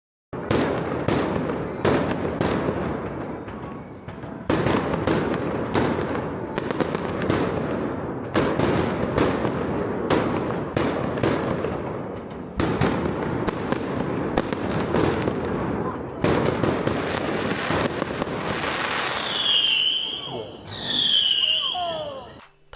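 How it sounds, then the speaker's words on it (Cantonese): Loud fireworks bursting close by in quick, irregular succession for most of the stretch, followed by a couple of rising whistles at the end, near a hot-spring resort hotel at Nankunshan, Huizhou. "聽到好大聲嘅煙花聲，仲要好近喎"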